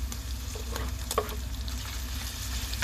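Onions frying in a pan while being stirred, the first step of cooking bagoong alamang shrimp paste, a steady close sizzle with a few utensil clicks and scrapes, no speech.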